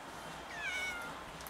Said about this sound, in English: And the cats are all playing.